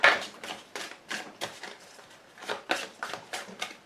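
An oracle card deck being cut and shuffled by hand, a rapid run of crisp papery flicks and riffling snaps in uneven bursts, close and fairly quiet with no voice.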